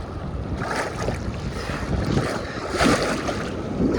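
Ocean surf on a beach in Puerto Vallarta, Mexico, rolls and washes in a steady broadband roar with a few swelling crests, buffeted by wind noise on the microphone.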